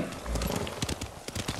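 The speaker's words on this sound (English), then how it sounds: "Yeah! Horse!" Hooves clatter in a fast galloping rhythm as a horse runs in the video game Ghost of Tsushima, loud and close, with a brief whinny and some background noise mixed in.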